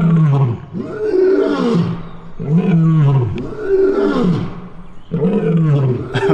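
Lions roaring close to a hotel room, a sequence of deep, loud, heaving roars in rhythmic bursts, each swelling and fading, with no talking.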